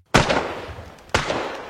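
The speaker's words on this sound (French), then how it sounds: "Des coups de feu la réveillent." Two sharp gunshots about a second apart in a film scene, each a loud sudden crack with a decaying echo tail, no speech.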